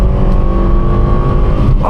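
A Ford Fiesta engine drones steadily and loudly close by on a country lane, a low continuous hum with a slight rise in pitch as it accelerates.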